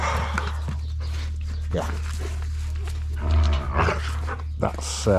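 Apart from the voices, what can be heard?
dogs Loki and Dover playing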